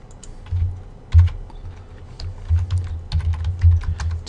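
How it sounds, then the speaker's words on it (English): A password is typed on a computer keyboard: close, crisp key clicks in short irregular runs, with a few heavier thumps on larger keys and no talk. "Type in my password."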